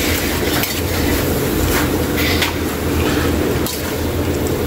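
Stirring chicken inasal marinade with ground pepper in a pot, a steady scraping and clinking of a utensil against the vessel with a few sharper knocks, close and fairly loud.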